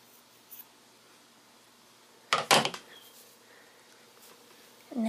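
Scissors snip through bracelet cord in one quick double cut, crisp and close, set against a quiet room with faint handling noises before and after.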